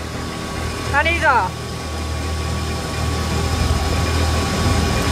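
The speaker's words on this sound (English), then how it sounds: "We started the engine." An off-road buggy engine runs with a low, steady rumble beneath people talking, with a brief rising mechanical whine near the start and the idle holding throughout.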